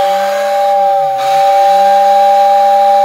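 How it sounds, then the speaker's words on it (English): Loud continuous airy whistle from a Lionel postwar toy train whistle station mounted up high, a held multi-tone hooting tone with hiss and a brief wavering dip partway through. "It's coming from the whistle station up top."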